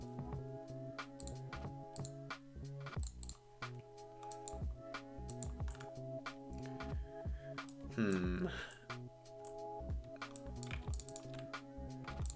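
Steady typing on a computer keyboard, with quiet, rapid clicks in irregular bursts, close by, over a low electronic hum, and one brief louder clatter midway.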